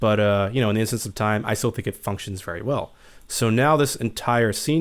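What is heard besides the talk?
No everyday noise stands out behind the speech.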